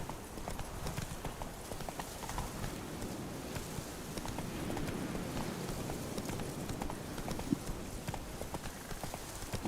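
Steady trotting hoofbeats from Roach, Geralt's horse in The Witcher 3, clip-clop close and even for several seconds over a soft game-world ambience.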